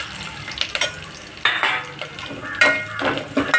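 Masala for dahi kadhi frying in a pan over a low flame, a soft steady sizzle broken by a few scraping stir strokes and light clinks of a spoon against the metal, close up, with no talking.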